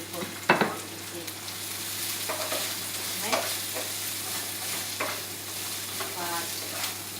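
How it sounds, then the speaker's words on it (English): Celery and beans being stir-fried in a pan as spring roll filling, a steady soft sizzle with scraping stir strokes throughout, moderately quiet with no talking. "my celery and my bean into here, and give a good stir a little bit"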